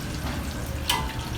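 Fish curry masala with water simmers in a pot for a Lahori wedding-style fish dish, giving a steady close bubbling hiss with a brief sharper splash near the end, no voices.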